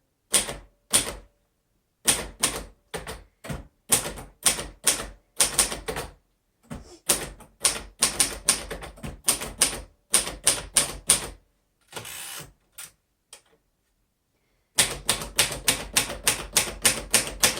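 Bursts of rapid key strikes from a 1953 Royal Quiet DeLuxe manual typewriter, clacking in uneven runs with brief pauses and a longer gap before typing resumes.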